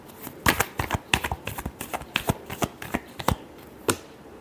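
A deck of tarot cards being shuffled by hand, a quick run of crisp riffling slaps and flutters at close range, bunched bursts with brief gaps, no voices.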